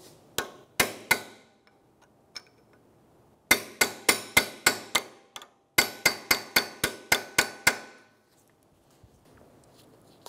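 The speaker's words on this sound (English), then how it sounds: "Use a punch and lock the axle nut in." A hammer strikes a punch to stake the axle nut on a 2012-2016 Subaru Impreza rear hub, sharp metallic blows in a few scattered hits and then two rapid bursts of about six to eight each, close and ringing.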